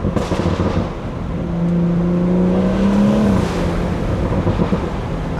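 A 500 hp BMW 340 driven along roads in Maine, heard from inside with a steady engine drone and intake whoosh that swells as it accelerates, with a rising tonal note and exhaust rumble.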